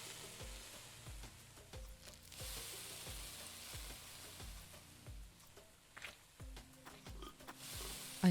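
Onions sizzle and fry in a pan with toasted whole spices while cooking in the video game Venba, a steady crackle accompanied by soft rhythmic game music.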